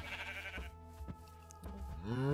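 Sheep bleating in Minecraft, a couple of close, wavering baas in the game with a rising tone at the end and nobody talking over them.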